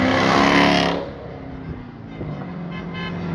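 Cars of a Trump supporters' vehicle parade pass close by on a street, a loud rushing engine swell fading after a second into a steady background drone of traffic with faint horn hints.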